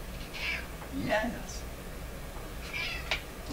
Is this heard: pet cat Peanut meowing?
yes